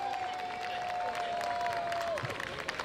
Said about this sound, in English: Let's give them a great hand of applause, please.